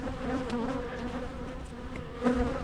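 Honeybees buzz steadily around backyard beehives, a dense close humming swarm with individual bees droning past the microphone.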